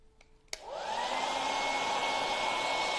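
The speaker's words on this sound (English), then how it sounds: "Hit it with the hairdryer if you wanted to." A hairdryer clicks on after a brief moment and blows a steady, loud whoosh with a faint whine, drying freshly stenciled paint.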